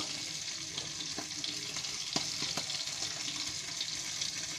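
Two whole mackerel coated in semolina fry in a pan with a steady, quiet oily sizzle, and a few soft clicks and clinks of utensils on the pan along the way.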